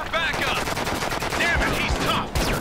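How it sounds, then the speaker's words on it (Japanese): Rapid enemy gunfire in a survival action video game rattles off as dense, continuous bursts of shots that fill the whole stretch, loud and close. "連射つらいわ、連射されるの"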